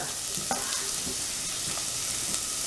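Chopped onion, curry leaves and green chilli fry in hot oil with popping mustard seeds, giving a steady close sizzle with scattered small pops and occasional stirring scrapes.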